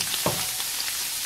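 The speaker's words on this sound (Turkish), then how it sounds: "Yağım iyice ısındı. Şimdi mantarları ilave ediyorum." Oyster mushrooms dropped into hot olive oil in a pan, a loud, continuous close sizzle and crackle with a brief burst of spatter near the start.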